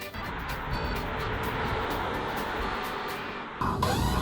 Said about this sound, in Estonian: Auto sõidab, autopiloot.